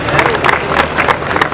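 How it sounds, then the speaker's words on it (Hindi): An audience at a housing society election campaign meeting claps loudly, a dense burst of applause with scattered individual claps and crowd noise. "यहाँ पर बैठे हुए तमाम हज़रात एक दफ़ा भरपूर तालियां बजाएं"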